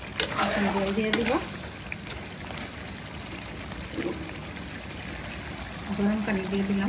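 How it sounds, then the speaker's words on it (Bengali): Hot water pours into a pan of simmering potato chicken curry, giving a steady, close hissing splash that runs for several seconds, with brief bits of voice near the start and end. "এখন জল দিয়ে দিব।"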